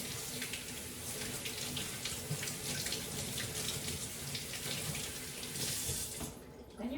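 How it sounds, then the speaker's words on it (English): Water runs steadily from a kitchen tap as hands are washed after mixing baguette dough, a continuous close splashing hiss that cuts off near the end. "Wash your hands."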